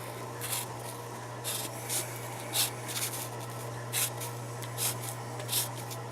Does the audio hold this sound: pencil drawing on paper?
yes